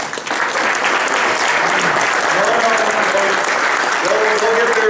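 An audience at a Mazda motorsports awards ceremony applauds the drivers, sustained loud clapping from a large crowd with voices calling out over it.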